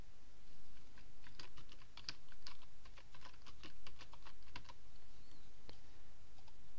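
Keys clatter on a computer keyboard as a post is typed into a WordPress dashboard, giving a close, fairly quiet run of irregular clicks in bursts with no talking.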